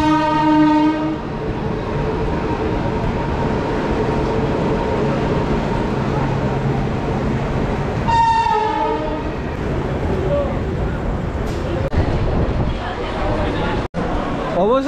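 Howrah-Indore Shipra Express rolling into platform one at Bardhaman Junction in the rain, a steady loud rumble of wheels with horn blasts near the start and again around eight seconds, under occasional talk.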